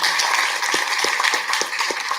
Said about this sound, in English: Give a round of applause to his amazing panel